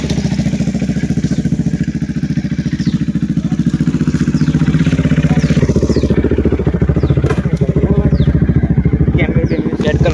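A sports motorcycle engine runs steadily and close throughout a ride, a continuous loud throbbing drone with occasional crackles and clatter over its rhythm.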